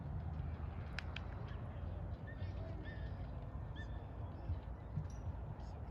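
Seagulls call at a reservoir at sunset, scattered high cries heard at a distance over a steady outdoor background rumble, with no one talking.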